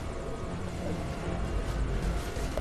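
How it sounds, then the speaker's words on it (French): A helicopter in the video game Metal Gear Solid Ground Zeroes makes a steady, dense rotor and engine drone with broad noisy texture, fairly quiet and continuous throughout. "vous devez retourner à l'hélicoptère qui va redescendre, bien sûr"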